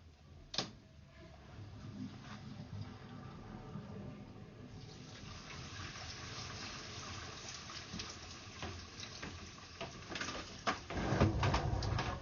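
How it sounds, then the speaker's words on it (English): Toilet flushing upstairs in a house, a faint, muffled rush of running water heard from a distance, with a sharp knock near the start and a louder gurgle at the end. "why don't you go give the toilet a flush once?"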